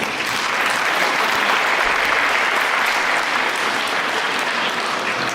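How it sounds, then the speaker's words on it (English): Sustained, loud applause from an audience at a livestreamed Bharatanatyam Arangetram dance debut, a thick even roar of clapping hands that holds steady from start to finish. "Please applaud that."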